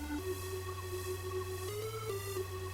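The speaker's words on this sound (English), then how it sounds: "that's the synthesizer, which is carrying the melody" Synthesizer carrying the melody in an Overwatch Bastion hero song, a sustained buzzy tone over a steady low drone, with a few smooth pitch steps, moderately quiet and alone.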